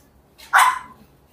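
One short, sharp bark from a small Shih Tzu, fairly close and loud, then quiet.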